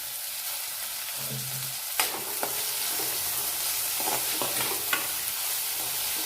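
Onions and tomatoes sizzle in a frying pan for green-pea ragda, with a steady hiss broken by several sharp scrapes and clinks of a spoon stirring, close and fairly loud, no talking.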